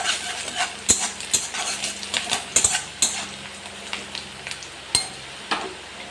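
Onion frying in a kadai, with a metal spatula clinking and scraping against the pan in irregular close strikes over a faint frying hiss, no voices.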